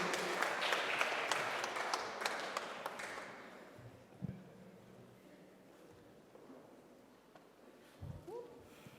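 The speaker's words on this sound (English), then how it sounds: "Can we please give them a round of applause" Applause from a live audience at a stage event, a dense patter of clapping for the first three seconds before fading into quiet room noise with a few scattered thumps.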